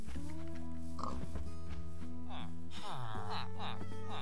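Pigs oinking in Minecraft, several short grunting snorts scattered through the clip over a steady layer of in-game music, with a person talking throughout.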